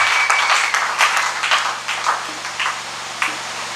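A church congregation applauds the Lord in a sustained wash of clapping that fills the room, loud and steady before thinning toward a few scattered claps at the end.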